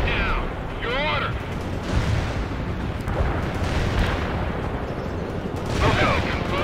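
An artillery barrage rumbles in the World in Conflict video game, with dense booms and crackling impacts rolling continuously beneath radio-style voices speaking.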